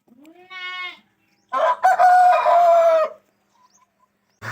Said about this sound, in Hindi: तो इसी तरह खेल रहा है मुर्गा भी